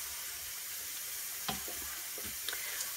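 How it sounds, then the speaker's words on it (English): Small bits of onion sizzle faintly in a pan, a soft steady hiss broken by a few brief scrapes and clicks of stirring. "I'm just going to put my little bits of onion in there"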